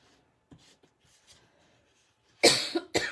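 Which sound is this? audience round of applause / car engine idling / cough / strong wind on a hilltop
cough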